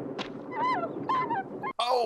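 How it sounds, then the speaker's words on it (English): Dog whimpering in a tense hunting scene from the 1982 film Rambo: First Blood, two rising whiny cries over a murmur of background noise and voices, ending in a brief sharper yelp. "I don't like the dog whimper."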